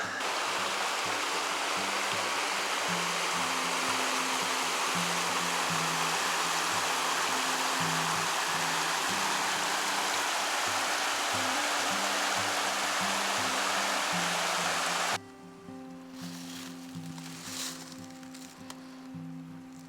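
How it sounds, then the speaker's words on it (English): Hurricane Creek on the Ozark Highlands Trail rushes with a steady, dense hiss of flowing water that suddenly drops to a quieter, more distant murmur near the end. "we made it to Hurricane Creek"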